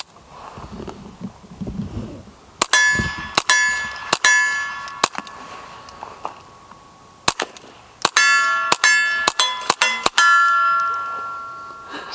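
Several suppressed shots from a Volquartsen Scorpion pistol ring off a steel target: a quick burst of bright, metallic pings with a pause, then a single ping and another rapid string, each hit ringing briefly.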